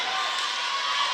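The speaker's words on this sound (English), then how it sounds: "the Mandeville cheering section is fired up" The Mandeville High School cheering section at a volleyball game roars with dense, loud crowd noise, shouting and cheering continuously in an indoor gym.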